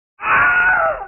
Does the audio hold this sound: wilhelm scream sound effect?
yes